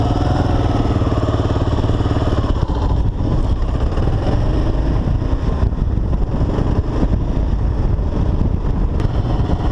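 Kawasaki KLR650 motorcycle engine while riding, a steady loud single-cylinder thrum with wind rush, fairly even throughout with slight changes in throttle.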